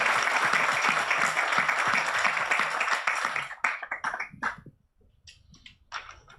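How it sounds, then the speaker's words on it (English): A huge round of applause for panelists at an environmental, social and governance awareness session: dense, steady clapping for about three seconds that breaks into sparser claps and fades, with a few last scattered claps. "if everybody could join me in giving them a huge round of applause"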